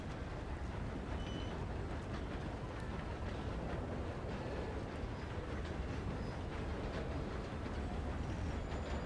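A train runs steadily in the RedM roleplay game (Red Dead Redemption 2) near Annisburg, with continuous rumbling and rail noise, faint clickety-clack and scattered higher squeals, holding a constant loud level throughout with no talking.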